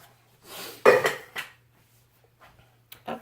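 A jar is resealed in a kitchen while preparing a beef stew meal in a jar: a few close, clinking and knocking sounds of lid and glass, then near silence and a last small clatter.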